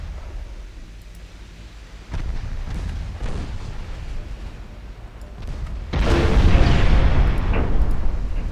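Heavy 15-inch battleship guns from Ultimate Admiral Dreadnoughts rumble in deep, distant booms, with a louder roll of firing building after the midpoint and sustaining to the end.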